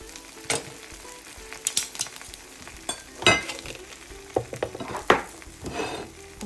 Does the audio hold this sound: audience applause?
no